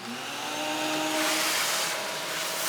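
A vacuum cleaner sound effect plays as a loud, steady, close whirring roar that swells slightly in pitch and intensity partway through, heard alone with no voices.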